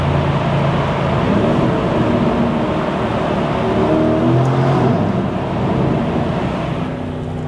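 A Lamborghini Urus SE revs nearby with a loud, sustained engine roar that swells and holds steady, with no voices over it.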